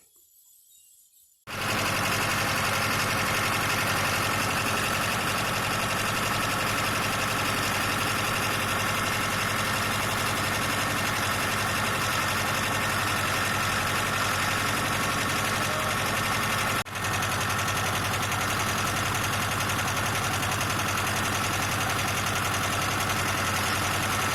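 After a brief quiet start, a John Deere 2010 tractor engine starts and runs steadily at a loud, even idle rumble for the rest of the clip, with one short dip.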